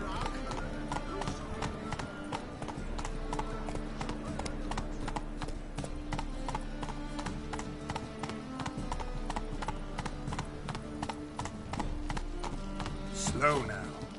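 Roach the horse gallops in The Witcher 3, a fast, even clip-clop of hooves running steadily throughout, up close over a low game music bed.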